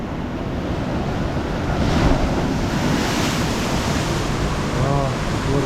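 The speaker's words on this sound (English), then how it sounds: "Oh, water's coming in." Ocean surf washes over a coastal rock shelf on a rock traverse, a steady loud roar of breaking water with surges and wind buffeting the microphone throughout.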